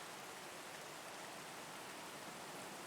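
Steady broadband rain hiss, soft and continuous with no distinct drops or voices, a uniform wet wash of outdoor rainfall.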